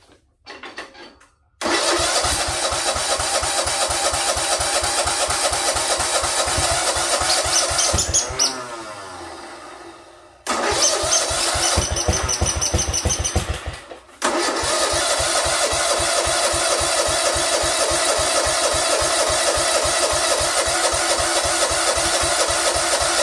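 A 1976 Sears ST10 lawn tractor engine cranks and catches, then runs loudly and steadily nearby, stalling twice and being restarted before settling back into a continuous rough running note.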